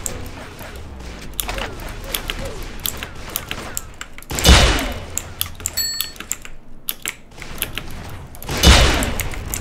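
Rapid-fire revolvers blasting in a multiplayer shooter game, with two loud bursts of quick, sharp cracks among lighter clicking and rattling. A voice is faintly present now and then.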